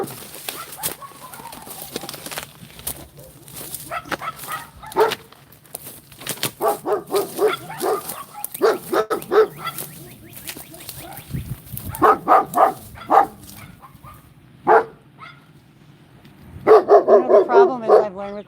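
A dog barks outside in short bursts of a few woofs, spread across the scene with gaps of quiet between them, fairly close, and bird calls can be heard in the background.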